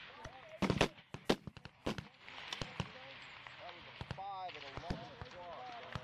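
Rifle shots at a shooting range ring out as sharp, loud cracks, several close together early and a few more spaced later, with people talking between them.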